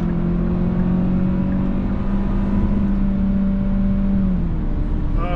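A 2023 Hyundai Sonata SEL accelerating in sport mode, a steady close engine drone and whir rising gently in pitch and holding loud for a few seconds, with no talk.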